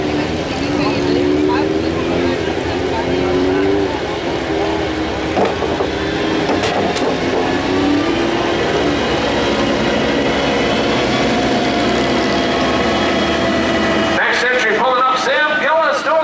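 A modified lawn tractor in the 1,200-pound class roars steadily at a tractor pull, its loud engine drone shifting in pitch throughout, with an announcer's voice likely mixed in.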